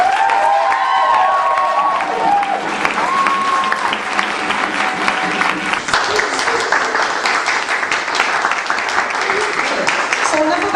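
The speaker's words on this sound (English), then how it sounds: "So a big round of applause for Youngmi." An audience at a closing ceremony breaks into a big round of applause, a dense, sustained wash of clapping with some cheering and raised voices mixed in near the start.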